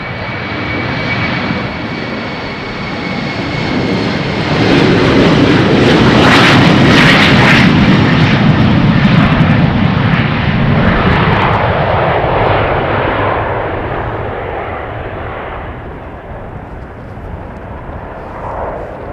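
Jet airliners departing runway 18R, the Polderbaan, at Amsterdam Schiphol Airport in showery weather, a loud engine roar swelling to a peak mid-clip and then slowly fading into the distance, with no talking.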